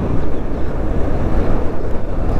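Fast-flowing river water in Ladakh rushes in a dense, steady roar, loud and close, with wind buffeting the microphone throughout.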